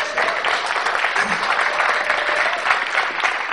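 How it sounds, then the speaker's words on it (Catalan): Audience applause at the presentation of the 3rd Festa pel Territori 2017, a dense, even wash of many hands clapping, loud and sustained, with a trace of voices underneath. "I des d'aquí us vull dedicar un aplaudiment a tots els que en guany no heu pogut fer"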